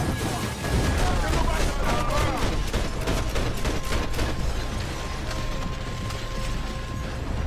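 Gunfire rings out in the video game Max Payne 3 during a diving shootout, with dense bursts of rapid shots and mechanical clatter that keep going throughout, while someone talks over the action.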